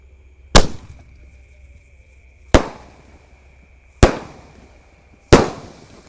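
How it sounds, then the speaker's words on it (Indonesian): A large Basoka Roman candle firework fires four loud, sharp explosive shots, spaced roughly one and a half to two seconds apart, each with a short ringing decay into quiet, with no voices. "Nanti malam takbiran kita akan menyalakan Basoka Roman Candle terbesar ya"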